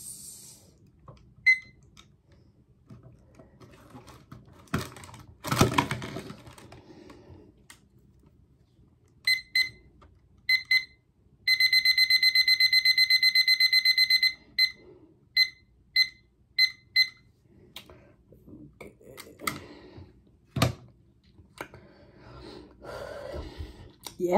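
A kitchen timer goes off during a Pringles eating challenge with cheddar and sour cream Pringles, giving a loud burst of rapid electronic beeping for about three seconds. Scattered single beeps, heavy breathing and gasps surround it.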